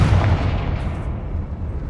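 A Confringo blasting curse explodes in the Hogwarts Legacy video game, a single loud, close boom with a heavy low rumble that decays over about two seconds.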